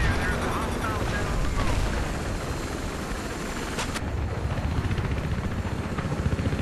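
A helicopter in Battlefield 3 drones continuously amid bursts of gunfire and explosions on a battlefield, dense and loud throughout, with a sharp crack near the middle.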